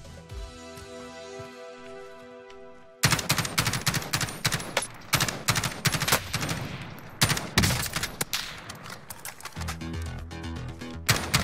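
Gunfire in the Warzone video game set in Verdansk: a rapid string of sharp, loud single-fire shots from about three seconds on, in close irregular bursts over a steady background of game music.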